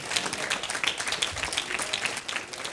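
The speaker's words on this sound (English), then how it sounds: "Give him a round of applause" An audience at a Black History commemoration and leadership event applauds a congressman, a steady patter of many hands clapping at a moderate distance.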